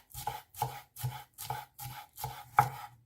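Chives are sliced with a knife on a cutting board in seven crisp, evenly spaced chops, close and clear, with no one talking.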